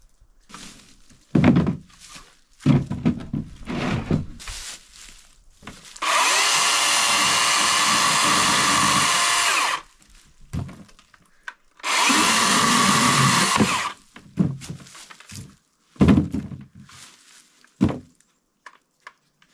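DeWalt chainsaw cutting wood in two steady bursts of about four and two seconds, loud and close, separated by clunks, handling noise and scattered knocks, with no talk over it.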